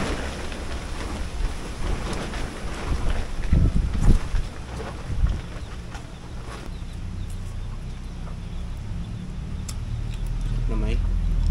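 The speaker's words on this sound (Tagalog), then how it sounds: "Malakas ang hangin" Strong wind blows across an open catfish fishing pond in a rough, continuous rush with gusty swells, while people talk over it.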